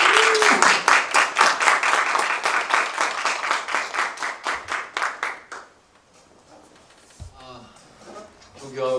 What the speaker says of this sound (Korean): 총장님 나오시다가 박수로 크게 받습니다.